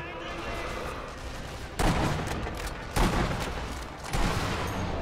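Sniper rifle gunshots in the video game Sniper Elite V2, three sharp booming shots spaced about a second apart over a low ambient bed, with a voice speaking softly.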